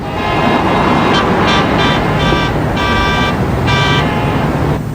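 A cartoon traffic jam: several car horns honk in repeated, overlapping bursts above a constant roar of idling and crawling traffic, loud and close from start to finish.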